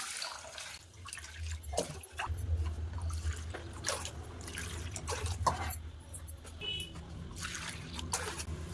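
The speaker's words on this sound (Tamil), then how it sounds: "அதே கப்பில் அஞ்சு கப் அளவுக்கு தண்ணி ஊற்றிக்கலாம்" Water pours steadily into a pot of soaking rice for pongal, a continuous splashing trickle that rises and falls for several seconds, close by with no talking.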